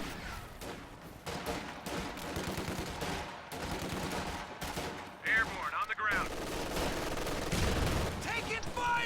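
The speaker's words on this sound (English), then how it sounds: "That's 3 frag grenades tossed into this building" Grenade blasts and gunfire in a multiplayer strategy video game battle, with frag grenades thrown into a building and Thompson-armed units nearby; dense, continuous crackle of shots and bursts with a heavier explosion near the middle, under commentary.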